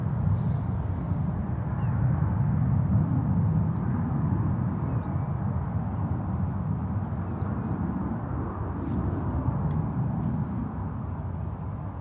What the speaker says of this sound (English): So next up, EVA Flight 28, coming in from Taipei in the Star Alliance livery at 777-300ER.